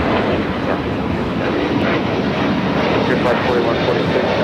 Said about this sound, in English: A321 Neo now taking off